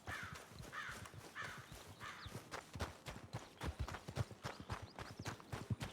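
Horse hooves clip-clop at a brisk, steady trot in Red Dead Redemption 2, close and rhythmic, with crows cawing faintly in the background.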